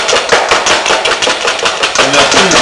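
A whisk beats sugar energetically for a chocolate fondant batter, producing a loud, close, rapid run of dense rhythmic strokes with no pauses across the whole stretch.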